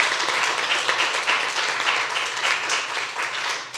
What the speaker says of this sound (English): round of applause for these folks here